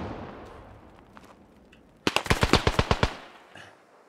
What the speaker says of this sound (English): Machine gun nest way down there.